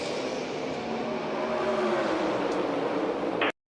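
NASCAR stock cars accelerate together on a restart, a dense, loud engine roar that holds steady for about three and a half seconds before cutting off abruptly.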